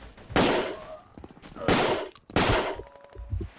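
A semi-automatic rifle fires in the Battlefield Yugoslavia game: three loud, close shots spaced about a second apart, each with a ringing echo tail, and some faint clicks and softer noises in between.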